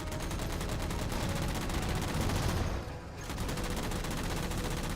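Sustained gunfire in a Halo video game, used to shoot down jammers: a dense, loud fusillade of rapid shots with a brief dip before the firing resumes.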